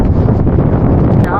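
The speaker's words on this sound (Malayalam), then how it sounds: "മഴയും ഒടുക്കത്തെ കാറ്റും." Strong wind gusts sweep across a hilltop at Kailasagiri during rain, roaring steadily and buffeting the microphone up close for the whole moment.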